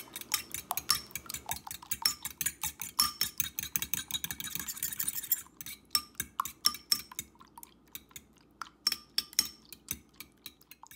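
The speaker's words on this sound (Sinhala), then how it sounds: "සුප් එක බ්ලෙන්ඩ් වෙන අතරේ අපි මේ විදිහට වෙනම වාජනයකට පිටරයක් දාගෙන පොඩ්ඩක් ඒක මික්ස් කරගන්නවා" Flour being mixed in a separate bowl while mushroom soup blends nearby: a quick, close run of clinking, tapping spoon strokes against the bowl, steady and busy throughout.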